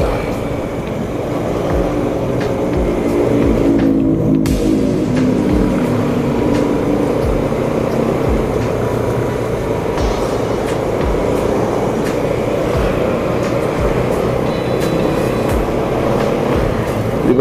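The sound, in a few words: Toyota Hilux 3x3 vehicle engine driving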